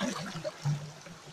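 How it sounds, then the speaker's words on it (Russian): Water babbles steadily at a hydrogen sulfide spring near Sochi, a faint, continuous trickle lasting only a moment with no voices over it. "Послушайте, как вода журчит."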